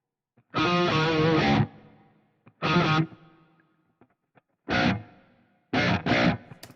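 Distorted electric guitar, double-tracked and panned hard left and right, plays several loud chords and short bursts with gaps of silence between them, full and wide, no talking.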